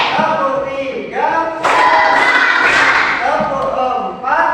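A classroom of students clap together in rhythm during a lesson, a few loud bursts of clapping between a teacher's spoken calls, close and lively.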